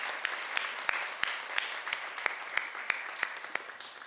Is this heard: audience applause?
yes